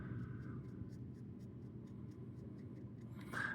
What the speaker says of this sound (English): I love the sound of the pen on the paper.